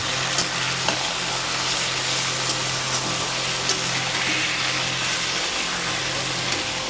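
Boiled taro leaves sizzle and crackle steadily in hot oil with fried onion and garlic, with a few faint spatula scrapes and clicks from stirring throughout, close and continuous.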